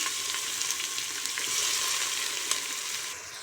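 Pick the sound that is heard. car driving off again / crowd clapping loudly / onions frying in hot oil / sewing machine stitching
onions frying in hot oil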